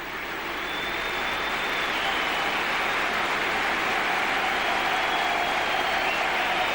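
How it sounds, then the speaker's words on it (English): Wigan Athletic supporters at a stadium fill the air with steady, broad applause that swells in over the first second and then holds loud and unbroken, a dense wash of clapping with a faint tonal whistle above it. "Gets rapturous applause from the Wigan faithful"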